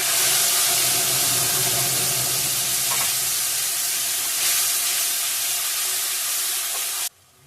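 Tomato, ginger and green chilli paste hits hot oil in a pan already holding fried chilli, cumin, cardamom, garam masala and cloves, giving a loud, steady sizzle with steamy hiss that runs unbroken for about seven seconds, then cuts off abruptly.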